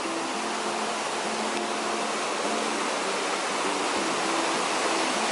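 Steady, broad rushing of a mountain river flowing beside a quiet forest campsite in the rainy season, a constant near wash of water filling the whole clip with no voices.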